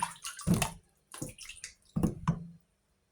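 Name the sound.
washing sweet potatoes in water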